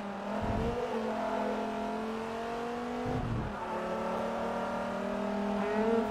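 A car engine in Forza Motorsport 3 revs up steadily through the gears, with rising harmonic tones, short drops at each shift and loud continuous racing noise throughout.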